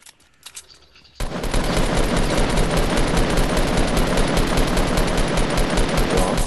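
Rapid, sustained automatic gunfire in Fortnite kicks in loudly after a brief quiet start and keeps up a steady rattling barrage to the end.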